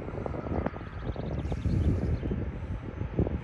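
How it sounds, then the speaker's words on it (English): A fixed-wing airplane idles and taxis on the ground at a small airport in a valley near Leeds Bradford, giving a steady engine roar with gusty wind noise on the microphone throughout. "The airplane is ready to take off."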